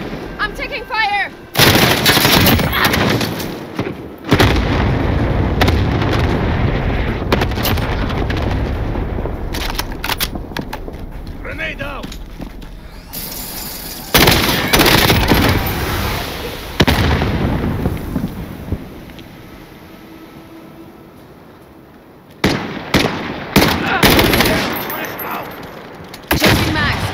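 Call of Duty Warzone battle with heavy, rapid gunfire and a cluster strike of booming explosions, loud bursts that come in waves with brief lulls, and radio-style voices calling out over the combat.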